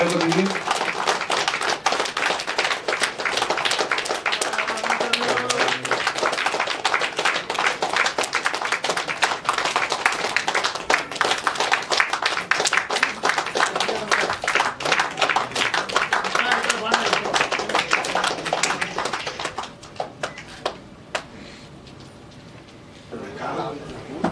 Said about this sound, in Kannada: ಒಂದು ದೊಡ್ಡ ಚಪ್ಪಾಳೆಯ ಮುಖಾಂತರ ಜ್ಯೋತಿಯನ್ನ ಬೆಳೆಯೋದಕ್ಕೆ ಶುಭವನ್ನ ಕೊಡಬೇಕು ಅಂತ